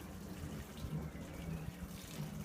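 Water poured from a can onto freshly planted tomato plants in a grow bag of dry compost in a back garden, a soft steady trickle and splash that stays faint and continuous.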